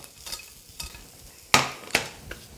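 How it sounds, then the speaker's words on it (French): Mushrooms and almonds with parsley being stirred a final time in a frying pan with the heat off: a few close, distinct scraping strokes over a faint, low sizzle. "Je mélange une dernière petite fois"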